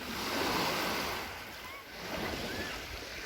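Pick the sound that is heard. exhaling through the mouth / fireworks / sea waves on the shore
sea waves on the shore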